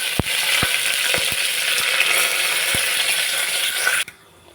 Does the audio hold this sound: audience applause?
no